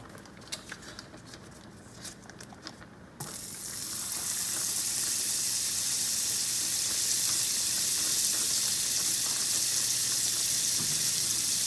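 Butter hits a hot pan of Tuscan butter shrimp after a few seconds of quieter crackling, then swells into a loud, steady sizzle that holds close and constant, with no voices.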